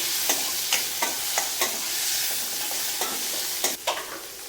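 Tomatoes fry in a pan for a tamarind gravy, an even sizzle broken by repeated sharp scrapes and knocks of a spoon stirring at a loose rhythm, no voices.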